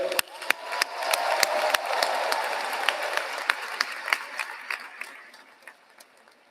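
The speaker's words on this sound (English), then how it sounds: "Please join me one more time in giving a round of applause to Dr. Hill." Applause from the audience at a college ceremony for the colleges of education, engineering and natural sciences, sparse and fairly quiet, with sharp individual claps standing out over a softer crowd wash that thins and fades toward the end.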